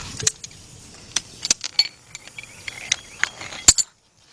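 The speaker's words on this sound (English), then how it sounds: "Let's get our 10mm deep, hook it onto our air ratchet and all." An air ratchet with a 10mm deep socket works on nuts during a Cadillac water pump job. Sharp mechanical clicks and short whirring bursts come in irregular spurts up close, ending with a loud clank.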